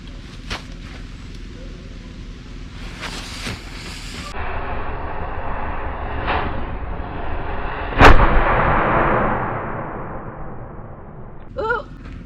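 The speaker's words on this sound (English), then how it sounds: "We're gonna light off the cannon to kind of start off the festivities for July 4th." A cannon fires a single loud boom to open July 4th Independence Day festivities at a lake, preceded by scattered crackles and followed by a long rumbling decay, with a brief cheer near the end.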